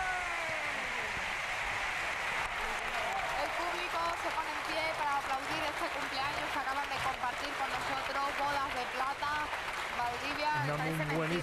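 A large crowd applauds a chirigota, Cai Story, at the 2011 Cádiz carnival, a thick, steady wash of clapping with voices calling and speaking over it throughout.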